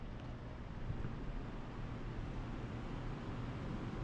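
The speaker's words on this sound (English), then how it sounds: "that was a very loud scroll compressor" A loud scroll compressor in a Carrier HVAC unit runs steadily, a dense low rumbling drone with a broad hiss above it, constant in level throughout with no pauses or talk.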